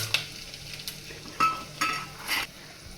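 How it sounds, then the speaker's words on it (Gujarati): Dried red chili, bay leaf and cloves dropped into hot oil for a Gujarati dal dhokli tempering, giving short bursts of sizzle and spoon scrapes against the pan, close and moderately loud, with no talking. "આ તેલ આવી ગયું છે તો એના માટે વઘાર કરીએ વઘાર કરવામાં જો સૂકું મરચું છે પછી તમાલપત્ર છે લવિંગ છે એ બધું નાખી દઉં"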